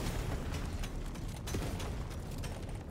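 High-explosive grenade blasts in the roguelike shooter Deep Rock Galactic: Survivor, a constant roaring wash of overlapping explosions and mechanical clatter, loud and unbroken with no talking.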